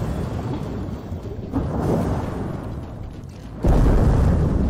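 A barrel blows up in the video game Dave the Diver with a deep, rumbling roar that rolls on and then jumps to a louder, heavier boom near the end, with no voices heard.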